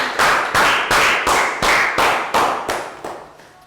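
Classroom applause for everyone, heard as about eight even, rhythmic bursts of clapping, each sharp and bright and fading quickly, steady and fairly loud with no talking.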